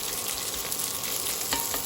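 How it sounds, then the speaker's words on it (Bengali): Spice masala frying in a pan for a home-style Bengali mutton curry gives a steady, close, dense sizzle with scattered crackles throughout, and no voices. "আমার মশলাটা ভাজা ভাজা হয়ে গেছে"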